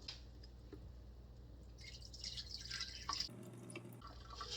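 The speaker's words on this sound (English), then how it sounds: "And then drain that." Rinsed lentils being drained, with water trickling and dripping steadily into a sink at close range; a louder splashing rush partway through, then a brief lull before dripping resumes.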